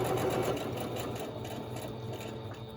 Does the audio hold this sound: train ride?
no